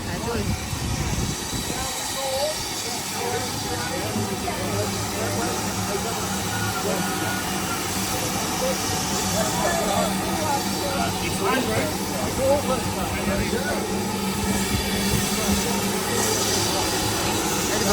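A coal-fired steam locomotive hisses and rumbles close by, a continuous churning roar with bursts of steam, while people talk over it.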